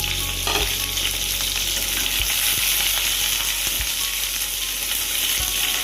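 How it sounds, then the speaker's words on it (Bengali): Onion and tomato sizzle steadily in hot oil in a pan with whole garam masala (cardamom, cinnamon, cloves), a continuous close frying hiss broken by a few low thumps of stirring. "এবারে এগুলো একটু ভাজা ভাজা করে নেব।"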